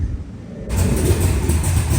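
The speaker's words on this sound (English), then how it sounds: "It's alive and it's idling all by itself." A 454 Chevy big block V8 idles on its own with a steady, deep rumble, starting quieter and then settling into a louder, continuous throb close by.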